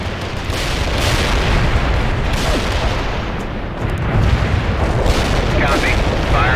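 Incoming mortar fire in the World in Conflict video game: a dense, continuous rumble of booms and blasts, loud and close, rising in waves with a voice speaking over the barrage.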